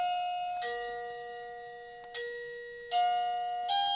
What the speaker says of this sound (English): doorbell, apologies.